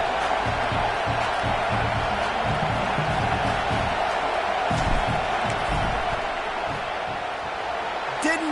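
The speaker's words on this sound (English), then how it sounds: "This crowd trying to do its part to get inside the kicker's head." A college football stadium crowd in a video game game roars steadily before a field goal kick, Rutgers against Nebraska, a dense continuous wash of noise with scattered bumps and whoops, a commentator's voice talking over it.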